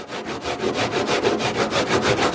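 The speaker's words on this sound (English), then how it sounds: "So you hold the coconut and you keep grating." A coconut is grated by hand on a traditional grater, producing a fast, even series of close, loud rasping strokes at a steady rhythm, with no speech.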